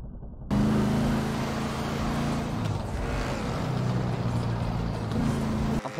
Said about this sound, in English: You hear a car?